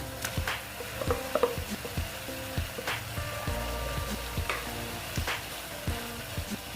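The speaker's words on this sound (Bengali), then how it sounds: "এই যে দেখো চাল কুমড়োগুলো দিয়ে দিচ্ছি" Ash gourd pieces sizzle in a hot pan at a fairly low level, with scattered clicks and scrapes from stirring throughout.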